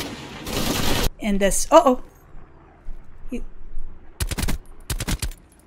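Silenced gunfire in a video game: short sharp bursts of rapid muffled shots, one early and two more near the end, with a person talking between them.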